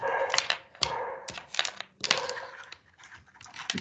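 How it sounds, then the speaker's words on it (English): A dog barks repeatedly in the background during an online general assembly meeting, sharp broadband bursts in an irregular rhythm, fairly close and moderately loud, with no talk over them. "technical issues can also include dogs in the background"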